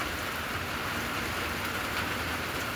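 Steady rain drums on a tin roof, a dense continuous patter with no pauses, moderately close and even throughout with no voices.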